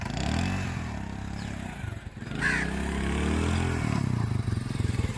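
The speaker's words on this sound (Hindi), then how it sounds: "अभी ये मेरा मोटरसाइकिल भी आगे करेगा।" A motorcycle engine runs close by at a steady, rumbling idle as the bike is moved forward, with a brief clunk and a dip in the engine note midway.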